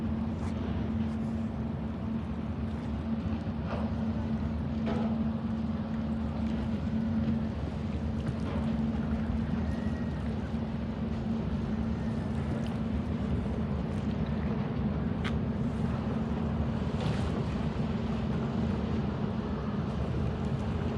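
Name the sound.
1,000-foot ship American Century engine and propeller through ice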